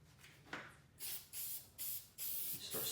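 Several short bursts of spray adhesive from an aerosol can hiss close by, each lasting about a third of a second and separated by brief pauses.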